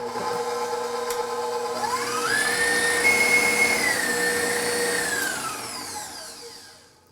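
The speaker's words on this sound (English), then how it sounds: "Just going to put it on the mixer. And this just needs to mix until it's well blended" An electric mixer whirs as it blends chocolate buttercream, its motor tone rising as it speeds up, holding steady, then winding down, loud and close with no talk.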